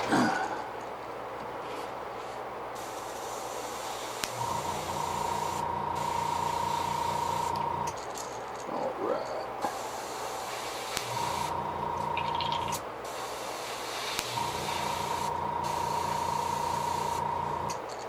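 An airbrush sprays a coat of paint onto a fishing lure in short bursts, a soft close hiss over a steady compressor hum that starts and stops several times.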